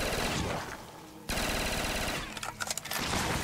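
Rapid automatic gunfire from a weapon in the Call of Duty zombies map Mob of the Dead, dense loud bursts that break off briefly and resume, then end in a few separate shots.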